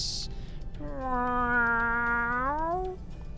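A single drawn-out cat meow rises and holds for about two seconds in the Taxi Life city driving game, clear and tonal above a faint background hum.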